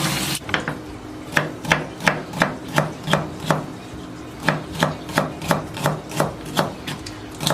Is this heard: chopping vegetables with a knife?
yes